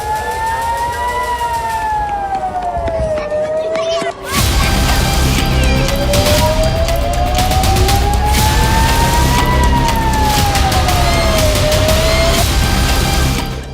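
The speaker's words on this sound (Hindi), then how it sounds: "इजराइल की राजधानी तेल अवीव में एक सायरन बजा" An air raid siren in Tel Aviv wails loud and steady, its pitch slowly rising and falling in long sweeps, briefly dipping before resuming with a fuller, broader roar.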